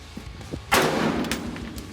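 Close-range AR rifle fired at steel targets outdoors: a single sharp, loud report with a bright broadband crack and a short ringing tail, preceded by faint soft thumps.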